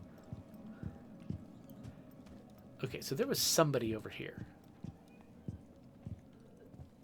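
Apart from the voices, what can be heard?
footsteps in video game Rainbow Six Extraction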